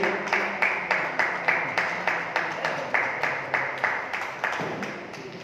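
A seated audience at a Yoga Day celebration claps together in a steady, evenly spaced rhythm, each loud clap landing close and clear for several seconds before tapering slightly.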